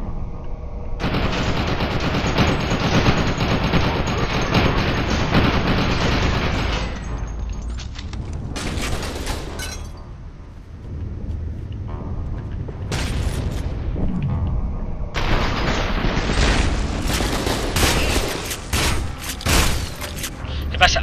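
Rapid bursts of gunfire from the first-person shooter F.E.A.R. 2 sound loud and sustained in several long volleys, with heavy booms and brief quieter gaps between them.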